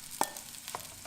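Cooked rice being stir-fried with scrambled eggs in a pan for smoked fish fried rice, with a soft steady sizzle and a couple of short scraping stirs.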